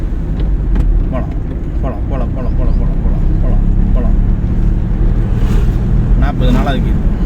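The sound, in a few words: car accelerating and shifting gears during a driving lesson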